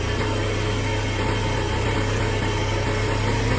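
An X-pro moped engine runs steadily at idle after a carburetor change, a loud, even, buzzing drone with constant vibration throughout and no talking.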